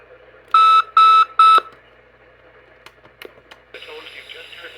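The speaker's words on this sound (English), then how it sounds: "The tones you just heard were a test of this specific area message" Emergency Alert System specific area message test tones: three loud, identical steady beeps in a row, followed by a few faint clicks and then a sustained higher tone starting near the end.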